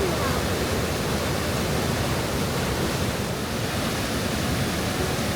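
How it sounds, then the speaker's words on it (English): Rushing river in a Slovenian gorge with turquoise water, a loud, continuous broadband roar of churning water close by, steady and unbroken throughout. "the sound of the rushing river"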